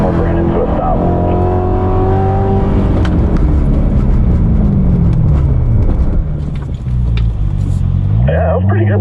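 A 2019 Corvette ZR1 with a manual transmission at a track driving school, loud engine rising through revs, then easing as it brakes to a stop, close and continuous.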